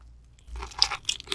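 Raw seafood such as octopus and small squid is bitten and chewed up close, starting near silent and then producing a short run of wet crunches and chewing clicks.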